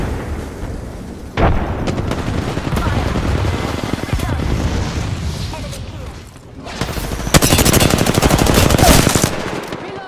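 Gunfire and a grenade blast from Apex Legends: automatic weapon fire runs steadily, broken by a sharp boom, then a louder burst of rapid shooting near the end, with a voice talking over parts of it.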